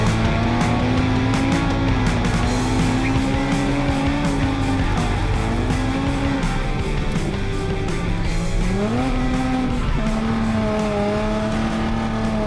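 A car drifts and slides around a race track, its engine droning and rising and falling in pitch as the revs change, with tire noise underneath. The sound is continuous and fairly close, with no talking.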